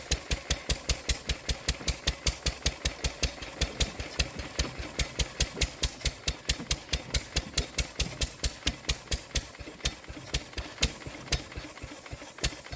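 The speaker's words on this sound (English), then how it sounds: "the dear old petter has run out of petrol" A 1931 Petter stationary engine runs steadily on its own, its rapid, even exhaust beats thumping in a regular rhythm close by, with no talk over it.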